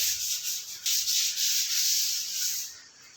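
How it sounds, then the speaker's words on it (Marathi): Steady scraping and rubbing as a wall is prepared and painted at home, a continuous dry swishing that holds fairly even with slight pulses before fading near the end, with no voices. "आता ह्या वॉलवरचा कलर आपण मारतो"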